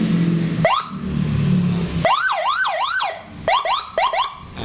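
Custom police-escort style siren fitted to an older Yamaha NMAX motorcycle, loud and close, giving short chirps and then a rapid rising-and-falling wail, followed by a series of quick yelps.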